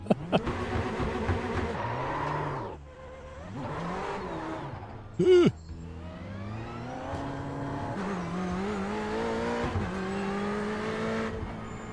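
A race car engine in a racing simulator video game revs and roars continuously, its pitch rising and falling through gear changes. A sharp brief burst cuts in partway, with faint tire squeal beneath.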